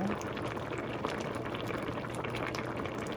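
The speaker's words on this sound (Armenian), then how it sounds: "մեր ճաշն արդեն եռում է" Armenian ajapsandal vegetable stew boiling in a pot, a steady close bubbling and gurgling that runs without pause and without talk.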